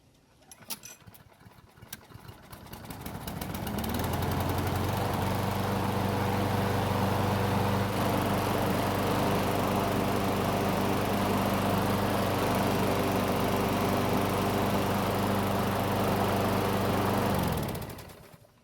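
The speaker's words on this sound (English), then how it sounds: "this mower starts very easily, even with me pulling on the rope with the strength of a 6-year-old" A Craftsman walk-behind lawn mower is pull-started by rope, sputtering briefly before catching and settling into a loud, steady close-up engine drone, then cutting off at the end.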